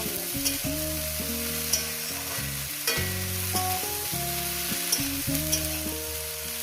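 Mola fish frying in a pan with potato and drumstick flowers, a steady close sizzle with occasional stirring scrapes and clinks running through, alongside a continuous low tonal hum.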